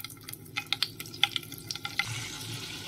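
Butter melts in a pan just used to fry chicken, giving a steady sizzle with a scatter of sharp little pops and crackles that ease into a softer hiss. No one speaks.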